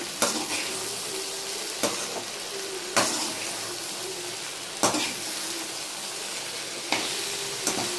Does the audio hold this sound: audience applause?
no